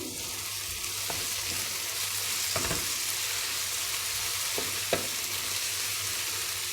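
Eggplants and garlic are stirred in a hot frying pan, giving a steady broadband sizzle with a few sharp utensil scrapes and taps against the pan, close and without talk.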